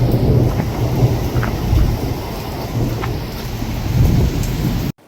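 Heavy rain pouring during a thunderstorm, a loud dense roar with low rumbling throughout, cutting off abruptly at the end.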